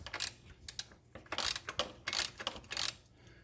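A ratchet wrench works a bolt loose on the water pump of a Jeep Wrangler, giving several short bursts of close, crisp clicking separated by brief pauses, with no talk.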